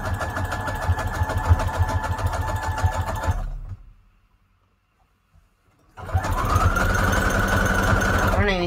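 A sewing machine runs a steady rapid stitch down the middle of a junk journal made from a Reader's Digest book. It stops for a couple of seconds of near silence, then starts up again at the same speed.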